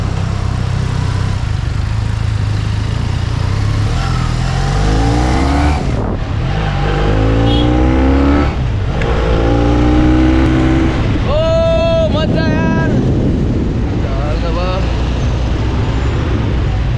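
A Benelli motorcycle engine runs steadily on a test ride, a loud continuous drone with wind rush and shifting pitch as it revs. A rider talks over it at times.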